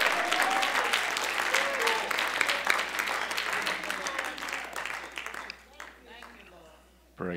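Church congregation applauding in praise, a dense burst of many hands clapping that gradually thins and fades toward silence, with voices heard faintly through it and near the end.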